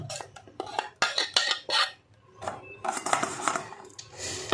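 A spoon scrapes and clatters against the inside of a mixer jar, working out ground red chili paste in uneven bursts of metallic scratching with short pauses between strokes.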